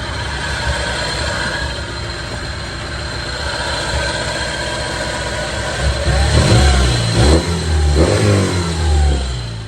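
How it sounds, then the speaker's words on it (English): A loud Mk3 Volkswagen Jetta engine with an aftermarket exhaust idles with a deep rumble, then revs up in several throaty bursts near the end, close and forceful. "And they've given it an exhaust. Listen."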